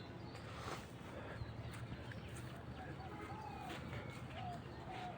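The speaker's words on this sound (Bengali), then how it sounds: "ওই যে ঘুঘু পাখি ডাকতেছে," A dove coos faintly and at a distance in a foggy rural setting near a bamboo grove, a few soft calls over a low outdoor background with muffled voices present.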